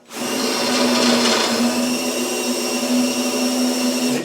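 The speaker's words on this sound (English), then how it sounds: "I need to sharpen my drill." A cordless drill whines loudly and steadily as it bores out 3/16 pop rivets on a Land Rover Defender door, a sustained high-pitched motor drone with slight variations in load and no talking.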